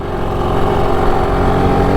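BSA Bantam motorcycle engine on a ride round the block, a loud close steady buzzing drone with a rough, pulsing texture throughout.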